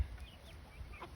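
Turkeys and guinea fowl on a small farm give soft clucking calls, brief and fairly faint over low outdoor rumble.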